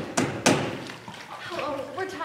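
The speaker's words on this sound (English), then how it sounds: "And a thousand doors were slammed on them." Doors slam in a stage performance of Baucis and Philemon from Ovid's Metamorphoses: two sharp thuds in quick succession, then voices carrying on over the room's reverberant tail.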